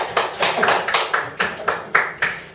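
A small group at a lecture held in a Korean medicine clinic claps about eight crisp, close hand claps in a loose, quick rhythm, with no talking during them.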